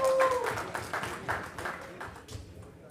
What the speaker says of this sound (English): Let me get a round of applause for y'all.